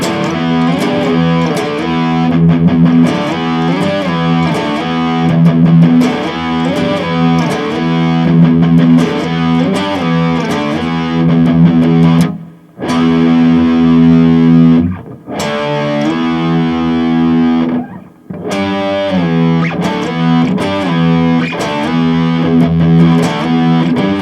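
Loud, heavily distorted electric guitar plays a chugging rock riff with chord changes, cutting out briefly twice before resuming.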